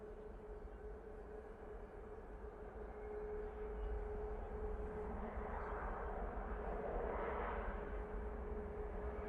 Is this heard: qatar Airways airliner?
yes